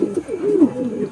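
A male pigeon gives a soft, close, low cooing call in a short burst of a little over a second.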